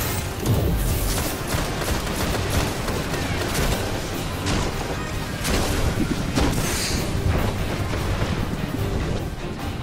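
Gunfire from a sniper rifle and other weapons in the Destiny video game, a dense run of repeated sharp shots and booms over a loud battle din.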